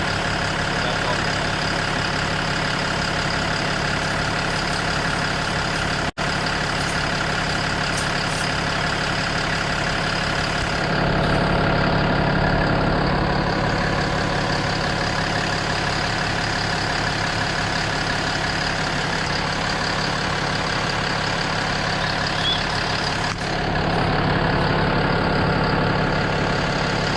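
A Ram 4500 truck engine idles steadily after its first start-up following a transfer case explosion, a continuous close, loud drone that surges slightly louder midway before settling back.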